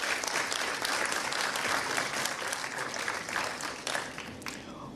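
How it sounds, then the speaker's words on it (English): An audience claps steadily for the whole stretch at a heritage event, a dense, loud wash of applause that holds without dying down. "Please give them a round of applause."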